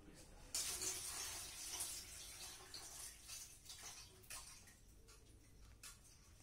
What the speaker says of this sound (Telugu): ఫస్ట్ అలసందలు బాగా కడిగి పెట్టుకోవాలి ఫ్రెండ్స్.